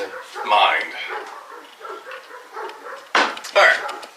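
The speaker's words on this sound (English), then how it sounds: "but the neighbor's dogs are going insane right now." Agitated neighborhood dogs bark and yip in scattered bursts, moderately close, with a sharper double burst near the end, while someone speaks through much of it.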